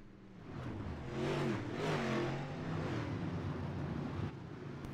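A dirt race car engine in the iRacing sim, running out of fuel, drones and revs with a rough, uneven sputtering tone, steady and fairly close, fading slightly toward the end.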